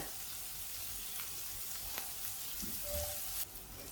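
Chopped onions with curry leaves fry in oil for a pumpkin curry, giving a steady, soft sizzle throughout with faint stirring ticks and no talk.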